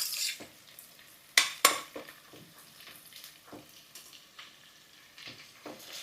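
Ginger garlic paste fries in a pan for a vegetable pulao, with soft sizzling under scattered stirring scrapes and a couple of sharp metallic clinks of a spoon against the pan.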